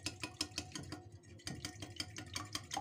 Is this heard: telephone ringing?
no